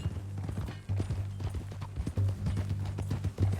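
Horse hooves clip-clop at a steady walking rhythm in Red Dead Redemption 2, close and moderately loud over a low background hum, with no voices.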